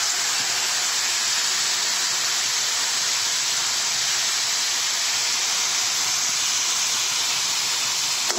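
Sesame seeds and tomato frying in a pan for palak paneer, a steady loud hiss of sizzling oil that holds constant throughout, close, with no talking.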